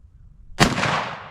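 A single loud, close rifle shot from a 1964 Winchester 30-30 Model 94 lever-action, a sharp blast with a brief rolling echo that fades over the following half second, outdoors at a shooting range.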